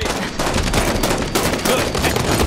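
Dense, continuous automatic gunfire in the video game Halo 5 Guardians during a Team Slayer match, loud and rapid bursts packed closely together with no pauses.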